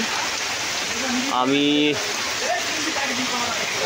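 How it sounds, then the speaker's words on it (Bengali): Heavy rain pours steadily on a village home among mango trees, a dense continuous hiss throughout, with a brief voice speaking over it midway. "প্রচুর বৃষ্টি হচ্ছে, দারুণ মানে দারুণ বৃষ্টি হচ্ছে, দারুণ।"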